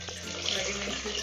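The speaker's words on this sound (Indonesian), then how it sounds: "Sedang mencuci daun singkong yang nanti akan ditumis menggunakan bumbu" Cassava leaves being washed under a running tap, a continuous close splashing hiss of water over the leaves, steady for about a second with handling noises.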